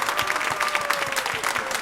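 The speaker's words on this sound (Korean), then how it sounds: "박수하겠습니다" A church audience claps during a Thanksgiving music service as a choir conductor receives flowers; brisk, fairly close applause fills the brief moment, with a faint voice underneath.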